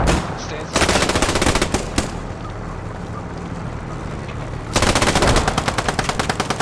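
Machine gun fire in a multiplayer shooter match: loud, close, rapid bursts with a pause of steadier background noise between them, then a second sustained burst.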